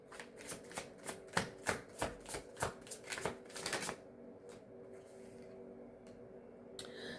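A deck of tarot-style cards riffles and bridges in quick successive bursts for about four seconds, close and crisp, then settles into quiet room tone with a faint final flick.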